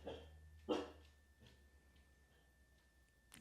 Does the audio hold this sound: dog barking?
yes